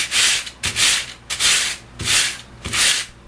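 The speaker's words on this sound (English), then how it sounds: "This is 150 grit sandpaper." Foam being sanded by hand with 150 grit sandpaper, in five steady back-and-forth strokes of loud, close, breathy scraping with short pauses between, and no talking.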